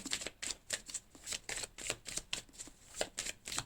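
Tarot cards being shuffled and drawn, with rapid, steady riffling flicks repeating close up for several seconds, no voices.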